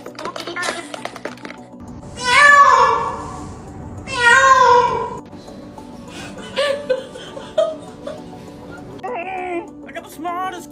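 A cat meows several times in clear, close bursts with gaps between them, while a person laughs and chuckles nearby under a low steady hum.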